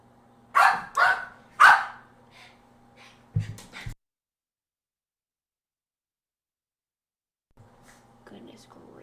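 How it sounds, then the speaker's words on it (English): A few sharp dog barks sound close together, followed by quieter rustling and scuffling, with soft breathing or whispering around them and a long silent gap before faint movement returns. "We're experiencing a doggy brawl situation."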